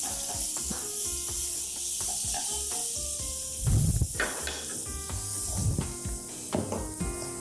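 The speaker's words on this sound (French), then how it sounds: "Je vais faire revenir mon ail." Garlic sautéing in a pan for an Algerian dish, stirred with a wooden spoon: a steady bright sizzle runs throughout, with a few louder scraping bursts from the spoon midway and near the end, close and continuous.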